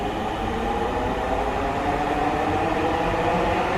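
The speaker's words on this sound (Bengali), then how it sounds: "এই ট্রেনটি এখন চলে যাচ্ছে আগারগাঁও অভিমুখের দিকে।" A Dhaka metro rail train pulls out of Pallabi station heading toward Agargaon, heard as a steady low rumble and whine of the moving train with no speech.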